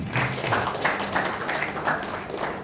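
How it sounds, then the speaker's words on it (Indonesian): A congregation at a Sunday church service breaks into sustained, dense applause that fills the room, with rhythmic clapping pulsing through it. "Yang setuju tepuk tangan."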